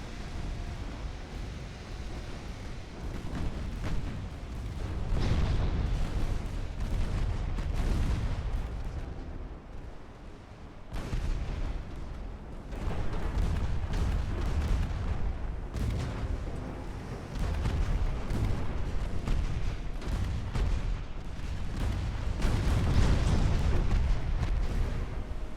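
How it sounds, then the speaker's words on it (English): Battleship main batteries firing in the naval game Ultimate Admiral: Dreadnoughts, a long run of deep, rumbling cannon blasts and explosions rolling on almost continuously with brief lulls. "All batteries of the battleships fire on that target."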